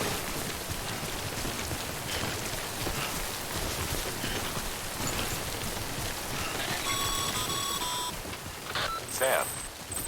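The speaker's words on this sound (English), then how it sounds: "Don't stay out in the rain any longer than you have to." Steady, dense timefall rain hisses in the video game Death Stranding, a constant wash of drops. A few faint electronic beeps come in near the end.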